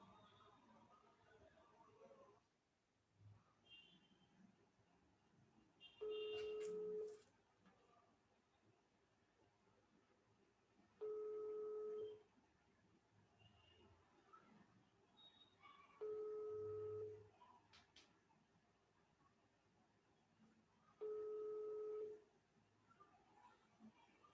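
Four evenly spaced bursts of a two-tone telephone dialing signal, each about a second long and recurring roughly every five seconds, over faint background noise during a phone call.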